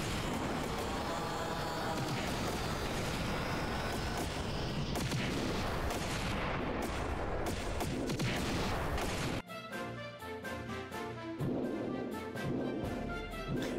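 Dense, continuous booming cannon volleys, with crackling blasts and a steady roar, fired at a dragon during a battle scene in the game Trails in the Sky SC, then cutting to a sparser sequence of sharp, separate impacts.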